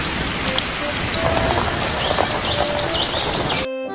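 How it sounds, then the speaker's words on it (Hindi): Light rain falls steadily over open farmland under dark clouds, a dense even patter with a few birds chirping faintly in the background, then cutting off abruptly near the end. "और हल्की बारिश शुरू हो जाती है।"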